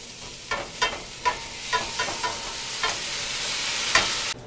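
Cauliflower pieces sizzle in a pan of ginger garlic, with a steady frying hiss broken by repeated scraping stirs of a spoon at an irregular rhythm, close and fairly loud, no voices.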